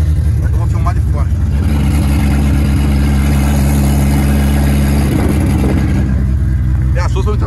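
A Parati GL turbo car engine idles in a steady, deep, loud rumble close by, with a brief rise in pitch near the end, while people talk over it.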